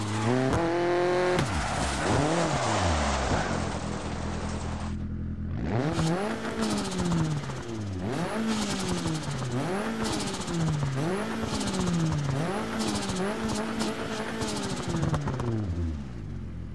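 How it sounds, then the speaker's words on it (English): A rally car in Dirt Rally 2.0 revs hard through repeated gear changes, engine pitch climbing and dropping in rhythmic surges with turbo whoosh and tire noise, loud and continuous throughout. "As you could hear, the turbo was really nice."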